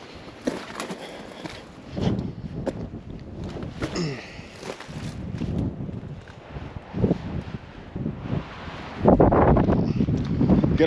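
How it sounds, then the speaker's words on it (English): Gusty wind buffets the microphone on a canyon hike, rising and falling in irregular roaring blasts with a strong surge near the end, loud and close. "Some of this gusty wind can kind of blow you off balance."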